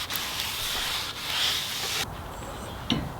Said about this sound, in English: we're going to go ahead and use some brake cleaner to clean off the rotor